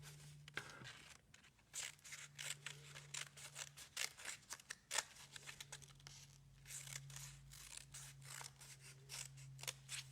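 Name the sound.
scissors cutting black paper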